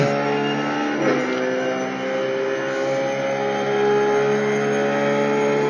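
A RUF race car engine holds full throttle at Suzuka in a racing simulator, a loud steady high-revving drone with layered harmonics running continuously throughout, close and alone without talk.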